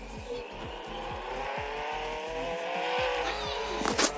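Car engine in the Roblox Jailbreak video game, driving with a steady harmonic drone while tires squeal and a closing burst of noise rises near the end.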